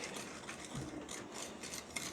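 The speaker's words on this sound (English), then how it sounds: "That's a lot of whisking there." Ingredients are whisked by hand in a bowl, giving a quiet, continuous scraping and rubbing rhythm close by, with no talking.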